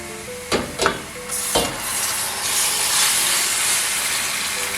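Wild boar meat dropped into hot oil with softened celery and vegetables, giving a few sharp clatters followed by a loud, steady sizzle with hiss that continues to the end.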